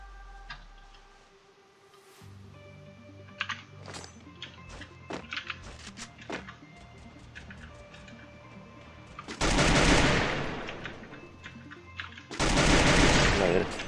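Gunfire in the Free Fire mobile battle royale game, scattered single shots and taps giving way to two loud, close automatic bursts near the end.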